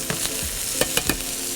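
Brussels sprouts cooking in a pan of rendered fat give a steady close hiss of frying, broken by a few sharp scraping clatters as they are tossed.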